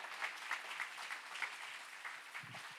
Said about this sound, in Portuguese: aplauda Jesus com força.